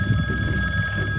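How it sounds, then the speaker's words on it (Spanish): A telephone rings with a steady electronic bell tone, moderately loud and close, with no talking over it. "Está sonando mi teléfono."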